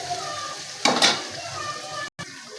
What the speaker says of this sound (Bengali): এখন আমি পাতাকপিগুলো দিয়ে দিব।